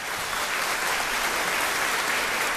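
Dense, steady applause from a large concert audience in Israel, a continuous wash of many hands clapping at full volume throughout, with no voices standing out.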